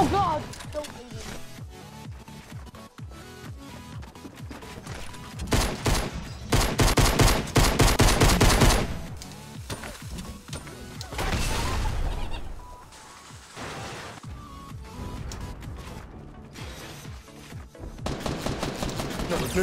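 Rapid bursts of suppressed SMG fire sound in a Fortnite Battle Royale match, with several dense rattling volleys in a row under excited players' voices.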